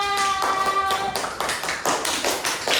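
A class claps for a student during an Islamic religious education lesson, a run of fairly close, steady claps from a small group with a brief tone in the first second.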